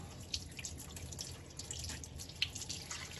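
A small tap aerator filter is rinsed under running water from a purifier tap, a quiet, steady trickle and splash with faint drips and a few light clicks, no talking.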